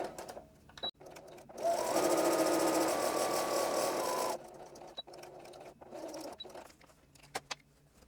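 A sewing machine runs in a steady, close burst of about three seconds, stitching homespun fabric rag-quilt pieces, with quieter handling clicks and rustles of the fabric before and after.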